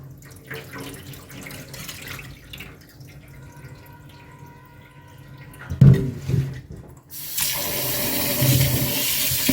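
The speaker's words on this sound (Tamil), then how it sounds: "நல்லா கழுவிக்கணும் பாட்டி இது அஞ்சாவது தடவை கழுவுறது" Traditional rice is washed in water for idli batter: quiet sloshing and drips, a louder splash midway, then water running and pouring steadily at close range.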